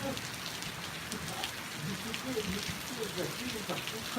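Steady rain falling and pattering on surfaces, a soft continuous hiss with scattered drops, fairly faint and even throughout, with a voice faintly in the background.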